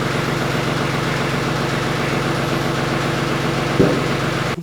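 A TYM 2515H compact tractor engine idles steadily, a loud, even low rumble that holds throughout, with one brief clunk near the end and no talking.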